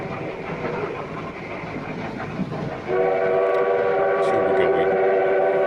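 A model train rolls along in the film Horror Express, clattering under a faint voice before a sustained horn-like whistle takes over for the final seconds.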